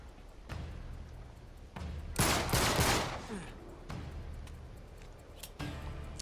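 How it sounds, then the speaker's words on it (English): Mounted turret gunfire from Uncharted 3 comes in short bursts, with a loud sustained rattling volley in the middle and scattered shots and thumps around it. "now I take advantage of the turret, give myself a little bit of cover"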